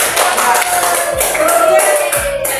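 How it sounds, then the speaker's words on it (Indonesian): A classroom of students claps continuously for a winning project group, the loud dense patter running under a steady musical tone and background hum, with no clear speech. "Tepuk tangan untuk kelompok 1."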